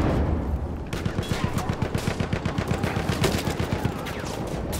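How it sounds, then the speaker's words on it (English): Machine gun fire in the video game Battlefield 1, a rapid loud burst of evenly spaced shots lasting several seconds amid battle noise, with a short quiet break before it starts. "Machine gun!"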